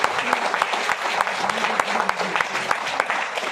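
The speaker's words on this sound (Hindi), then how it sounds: "आदरणीय डी सर के लिए कोई जोरदार ताली होना चाहिए" Loud, dense applause from a seminar audience at an RCM business event in Faridabad, steady clapping filling the room with faint voices mixed in throughout.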